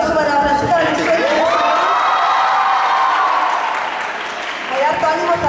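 A crowd in Antofagasta cheers, whoops and applauds for a singer, a loud continuous roar of shouting and clapping with high excited voices rising above it.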